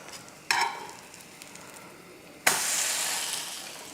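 Bread slices topped with masala sizzle on a hot pan, a quiet crackle at first, then two louder bursts of frying as the bread is turned and set back down, the second hiss continuing steadily to the end.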